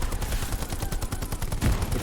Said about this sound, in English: firing a machine gun requires you to put down a bipod on something to fire accurately